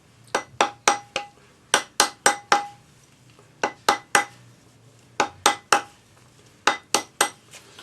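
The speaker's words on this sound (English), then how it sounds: "round it up with a rawhide hammer gently" A rawhide hammer taps a metal jump ring on a ring mandrel in quick bursts of three or four sharp, ringing strikes with short pauses between, close and clear.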